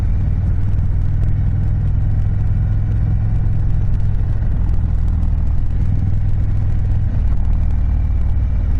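A 2021 Indian Chieftain Darkhorse motorcycle engine rumbles loud and low while decelerating, a steady close throbbing drone that carries on without a break and with no voices.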